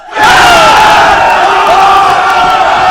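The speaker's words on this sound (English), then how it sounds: "The crowd going crazy" A loud, roaring crowd cheers and yells continuously at a varsity high school basketball game in a packed gym, a dense wall of voices swelling in at the start and holding steady.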